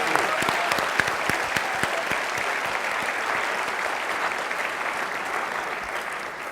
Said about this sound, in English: I think we have to applaud these wonderful readers and talkers again